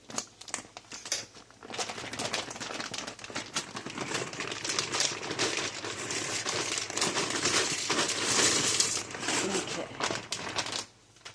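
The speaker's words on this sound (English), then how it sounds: "Let me cut the packet so I can get the pasta in the pan for you guys." A plastic pasta packet is cut open and handled, giving a run of crinkling, rustling and small snipping clicks that rise and fall over about ten seconds.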